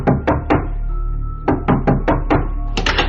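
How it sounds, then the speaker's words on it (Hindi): A door is knocked on in sharp, heavy thuds: three quick knocks, a pause, then a longer run of knocks at an uneven pace, loud and close. "बाहर दरवाजे पर हो रही थी दस्तक"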